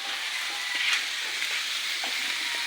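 Mixed vegetables cooking in a pan sizzle steadily at close range, a dense even hiss with a few faint clicks and scrapes from stirring, no voices.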